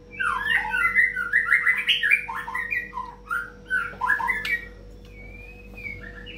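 A songbird sings near the microphone in a rapid run of squawky, whistled chirps and warbles for several seconds, then trails off into a single thin whistle against a faint steady hum.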